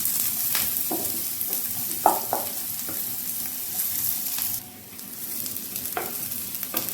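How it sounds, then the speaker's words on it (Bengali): Chopped onion and garlic fry in oil over a lowered gas flame, a steady close sizzle broken by a few sharp scraping stirs of a spoon against the pan, with no talking. "পেঁয়াজটা রসুনটা এখন একসাথে বেশ ভালো করে গ্যাসের আঁচ কমিয়ে একেবারে লালচে লালচে করে ভেজে নিতে হবে"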